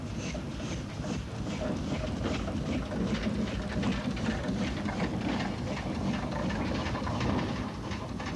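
A British steam train hauling a small four-wheeled coach at the rear rumbles past in a steady, broad roar with rhythmic rail clatter and wind buffeting the microphone, without voices.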